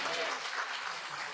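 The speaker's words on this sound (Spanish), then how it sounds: "le damos un aplauso a Él." Church congregation applauding during a Spanish-language sermon, a dense steady clatter of many hands filling the whole short moment, moderately loud and even throughout.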